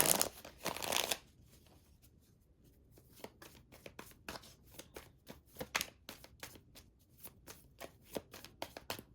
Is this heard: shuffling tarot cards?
yes